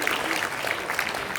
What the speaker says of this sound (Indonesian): Aplaus kita semuanya Bapak Ibu.